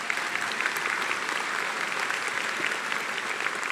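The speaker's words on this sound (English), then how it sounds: "So give them a round of applause." Steady applause from an audience at a medical school white coat ceremony honours the incoming class, a dense, even clatter of many hands lasting the whole stretch without speech.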